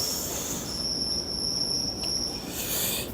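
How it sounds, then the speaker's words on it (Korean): High, steady cricket chirping rings out over a dense background hiss, continuous and fairly loud, with no voices. "이 영상이 이제 귀뚜라미 소리를 시각화해서 만든 영상인데요."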